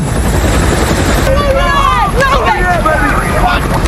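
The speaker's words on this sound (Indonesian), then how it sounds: "Sementara di luar, helikopter evakuasi akhirnya tiba." An evacuation helicopter arrives amid an alien invasion battle, its steady rotor roar loud and continuous under a chaotic mix of shouting, whistling tones and babble.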